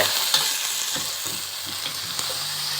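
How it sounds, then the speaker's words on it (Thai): Cleaned eel stir-fried in a hot pan for a spicy Thai stir-fry, giving a continuous close sizzle broken by soft, irregular stirring knocks. "ปลาไหลที่เรา เตรียมไว้นะครับล้างทำความสะอาดเรียบร้อยแล้ว ใส่ลงไปผัดเลย"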